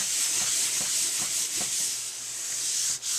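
Sandpaper rubbed back and forth across a composition book cover, steady close scratchy strokes in an even rhythm of about one pass every half second, with no talking.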